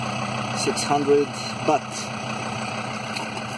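Diesel engine of an off-road vehicle running close by, heard right next to its exhaust: a steady low idle with a tonal hum that continues under someone speaking.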